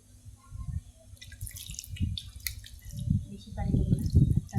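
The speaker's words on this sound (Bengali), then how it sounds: "আমি এখন হাতটা ধুয়ে একটু পানি দিয়ে দেবো।" Hands are rinsed under running water at a kitchen sink while cooking a beef and potato curry, giving intermittent splashing and dripping with a few soft clinks, close and moderately quiet.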